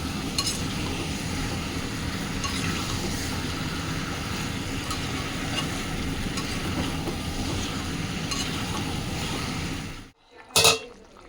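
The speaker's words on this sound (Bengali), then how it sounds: "ব্যাস এটা দিয়ে এবার ভালো করে একটু কষিয়ে নেব" Meat is stirred with a fried spice mix in a pan while cooking a meat curry with peas, giving a steady scraping sizzle for about ten seconds. It then falls silent, and one brief knock follows.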